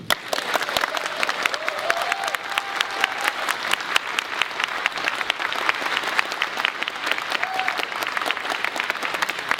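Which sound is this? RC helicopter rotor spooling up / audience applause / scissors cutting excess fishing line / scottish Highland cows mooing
audience applause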